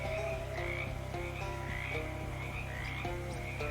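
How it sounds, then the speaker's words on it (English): Chorus of frogs croaking in the swamp of the Shadows Over Loathing video game, a steady and continuous rhythmic pulsing with repeated rising calls layered over it, moderately loud. "Wow, that is a lot of frogs."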